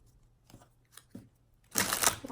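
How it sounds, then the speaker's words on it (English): Tarot cards being shuffled by hand during a psychic reading: a few soft, separate riffles, then a louder, denser burst of card noise near the end, close to the microphone in a quiet room. "I'm going to shuffle this 3 more times."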